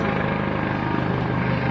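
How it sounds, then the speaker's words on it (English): A helicopter passes over a balcony during Mardi Gras, its steady rotor and engine drone filling the air as a loud, continuous roar with no voices over it. "Let's see the helicopter."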